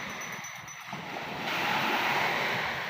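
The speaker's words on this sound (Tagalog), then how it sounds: "Diri ra sa daplin ang balod saba kayo." Sea waves break on the shore within sight of Pamilacan island, with a soft wash that swells into a louder, hissing surge of surf halfway through, mixed with light wind noise.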